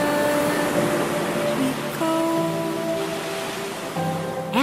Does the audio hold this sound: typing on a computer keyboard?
no